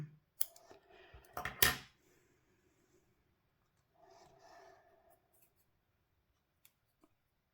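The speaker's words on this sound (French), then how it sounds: "Je vois que mon fil est un peu bousillé. Donc je redonne un petit coup de ciseau." Scissors snipping a frayed micro-macramé thread on a wooden bohemian fan project, a few sharp close cuts followed by faint rustling of the thread, quiet and without talk.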